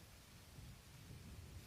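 Distant thunder rumbles through a night-time thunderstorm, a low, steady wash of noise with a faint rain-like hiss and no clear separate claps.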